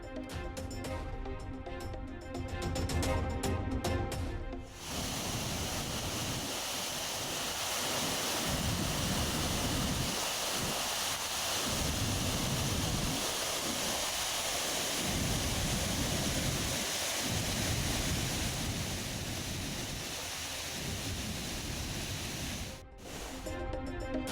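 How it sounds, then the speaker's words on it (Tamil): Heavy rush of water pouring down Kaviaruvi waterfall near Valparai in the Western Ghats after continuous heavy rain, a loud steady roar with no voices, joined at the start and end by brief sharper broadband bursts. "வால்பாறை அடுத்த கவியருவியில் ஆர்ப்பரித்து கொட்டும் தண்ணீர்."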